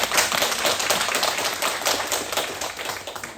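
A church congregation at an Easter Sunday service breaks into sustained, dense applause, many hands clapping evenly and steadily throughout.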